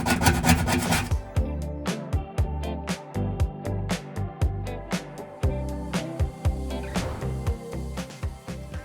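Old, dusty, crusty sticky tape being scraped off a cupboard surface, heard as a steady series of close, dry rasping strokes in a quick rhythm, with no talking.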